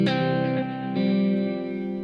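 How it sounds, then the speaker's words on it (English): Sustained harmonic notes pass through a gold plate reverb on a VP4 effects unit: a bright attack, a second struck note about a second later, then a long, shimmering reverberant tail that slowly fades. "I really like this gold plate reverb"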